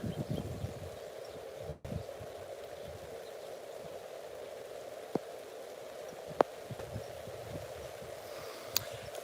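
Steady rain patters on surfaces all around on a farm, a soft continuous hiss with a few sharper drops standing out.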